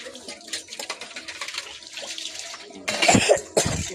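Dishes are washed by hand under a running tap, with water splashing and rushing, dishes clinking and shifting close by, and a louder burst of flow near the end.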